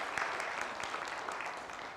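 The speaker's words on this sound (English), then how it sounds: "I want you to give yourselves a round of applause" An audience at a stakeholder meeting with business and energy chamber members claps steadily, a dense, even wash of many hands filling the room without a break.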